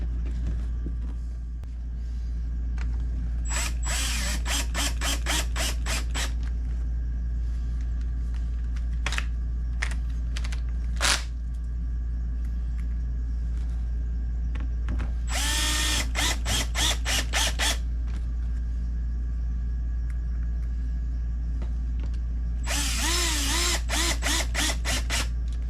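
Screws driven into a center console cover on a Ram truck, heard as short ratcheting and whirring bursts of a driver spread across a low steady hum, close and without talking.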